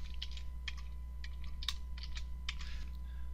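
A computer keyboard being typed on, a short run of quick, light key clicks in uneven bursts, close and fairly faint over a low steady hum, with no one talking.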